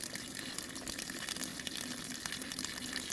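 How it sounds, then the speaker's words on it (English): Water runs steadily through a French drain pipe in a soggy yard, a constant close hiss and gurgle with faint splashy crackle throughout. "See that water coming through the pipe?"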